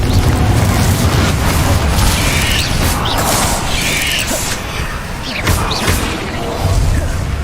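A Confringo fire spell in the Hogwarts Legacy video game bursts in loud booming blasts and crashes over a dense, rumbling battle din, with a few sharp impacts scattered through.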